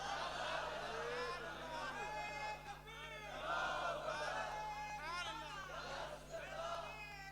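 A crowd at a religious gathering chants slogans, many voices rising together in loud rhythmic shouted bursts, with a reverberant hall sound and a steady hum underneath.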